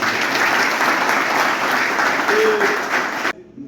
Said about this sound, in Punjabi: ਇੱਕ ਵਾਰ ਤਾਲੀਆਂ ਲਾ ਦਿਓ ਮਹਿੰਦਰ ਸਿੰਘ ਚਾ ਜੀ